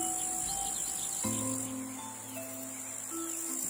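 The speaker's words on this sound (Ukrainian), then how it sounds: "Та циркочуть коники у траві то тут," Grasshoppers chirp in summer grass here and there, a steady high insect trill running throughout at moderate level, with a few tonal background sounds layered beneath.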